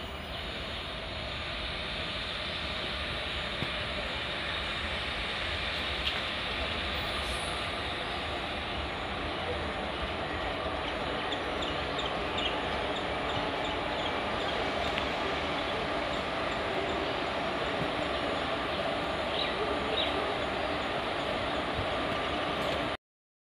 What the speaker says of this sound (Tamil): Madurai Coimbatore intercity express ஸ்டாப்லாம் number 2 குடல்நகர் railway station வந்து கொண்டிருக்கிறது.